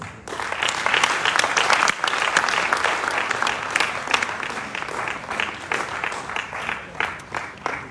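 Sustained applause from an audience at a business conference hall, dense and steady for the whole stretch, gradually thinning toward the end.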